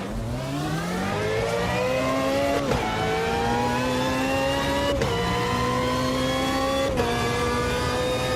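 A loud historic race car engine in the Automobilista 2 sim racing game climbs through the revs in repeated rising sweeps. Brief dips mark each gear change, and the sound stays close and constant.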